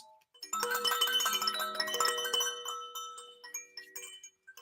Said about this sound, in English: we are going to ring the bell like this